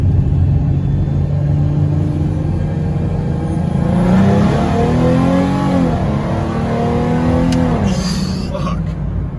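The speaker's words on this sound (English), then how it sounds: "Second gear pull here, low RPMs." A Procharged V6 Mustang pulls hard in second gear from low RPM, its engine note rising steadily and loudly toward a 6,000 rev limit, with supercharger whine over the rumble.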